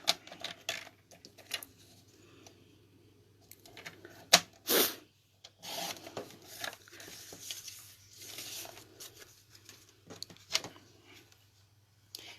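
Card stock is trimmed into pieces on a paper cutter, giving close, crisp scraping slices and light paper rustles, with one sharp, loud cutting stroke in the middle and no talking.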